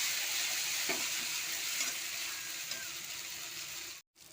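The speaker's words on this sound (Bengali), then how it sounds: "মশলাটা ভেজে নেবো।" Chilli and other spice powders frying with onion in a pan for a Bengali fish curry, a steady close hiss and sizzle with a few faint scrapes, cutting off abruptly near the end.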